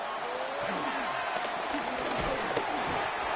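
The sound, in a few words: stadium crowd cheering at an American football game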